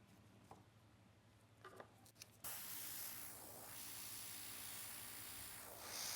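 Nail art airbrush spraying a top layer over flowers on nails: after a few soft clicks, a steady close hiss of air starts and runs on evenly, swelling slightly near the end.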